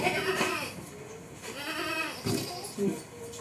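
Hyderabadi goats and young kids from an old breeder's herd bleat in several wavering calls, close and fairly loud, with people talking at the same time.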